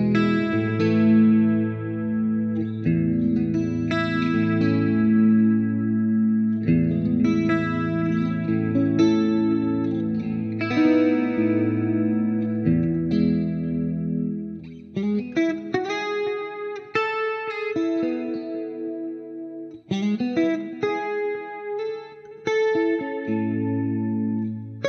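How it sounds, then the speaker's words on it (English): Electric guitar dialed in on an FM3 modeler, chorus pedal effect added on the second pickup position; sustained chords and melodic runs shimmer with a wide, warbling modulation, loud and alone. "here's that previous sound with some chorus added in the second position"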